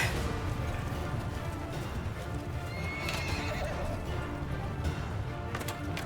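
A horse whinnies and its hooves clip-clop in a galloping rhythm amid steady battle ambience in the medieval combat game Mount & Blade II Bannerlord, with the neigh rising clearly near the middle.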